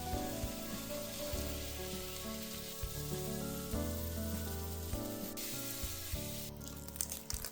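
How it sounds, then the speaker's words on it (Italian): Zucchini sauté in a pan with olive oil and garlic, giving a steady, moderately loud sizzle throughout with tonal background sounds layered over it. "Saltate le zucchine in padella con olio e aglio."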